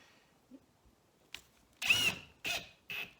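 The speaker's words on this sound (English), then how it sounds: "So I'm going to put the other screw in." A screw is driven into wood on a grade 7 woodworking project, heard as three short, quiet bursts of a driver whirring and biting in, separated by brief pauses.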